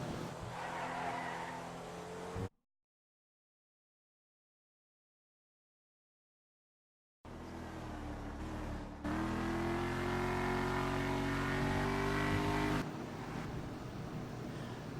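Enus Paragon R performance car in the video game GTA 5, its engine droning loud and steady with a rising tone, broken by a silent gap of several seconds, then returning with higher sustained revs.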